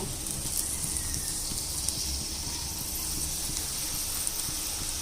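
Okra fries in hot oil with a dense, steady sizzling hiss and crackle, close and even throughout, with no speech.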